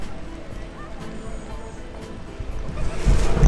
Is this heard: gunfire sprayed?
no